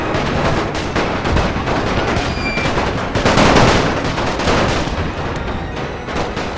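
Rapid, continuous battlefield gunfire from the World War I strategy game NTW: The Great War, with dense rifle and machine-gun volleys and booming reports that stay loud and unbroken throughout, with no talk over it.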